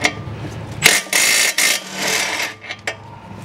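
A lower control arm bolt being removed on a 2014 Lexus GS350 AWD, a loud pneumatic tool buzzes in several bursts of under a second, with brief ratcheting clicks and quieter gaps between.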